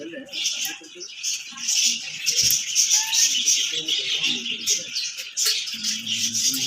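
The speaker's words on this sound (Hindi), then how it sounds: "और आप यहाँ परिंदों की आवाज़ सुन ही रहे होंगे" Many small birds chirp and tweet continuously in a busy chorus, close by outside a physiotherapy centre in Karachi, with a few brief low knocks and murmurs underneath.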